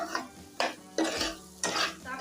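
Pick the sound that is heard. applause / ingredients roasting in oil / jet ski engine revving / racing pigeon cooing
ingredients roasting in oil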